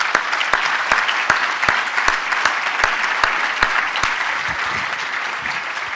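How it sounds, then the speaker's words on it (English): Sustained audience applause from a crowd at a business talk, dense steady clapping that fills the whole stretch at an even, fairly loud level. "Give him a round of applause."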